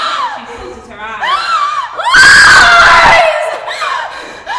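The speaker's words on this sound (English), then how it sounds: "screams and growls in anger" A teenage girl screams and growls in anger during a stage performance, a long loud harsh scream rising out of raised, strained vocalizing, close and intense.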